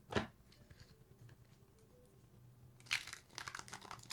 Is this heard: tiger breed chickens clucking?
no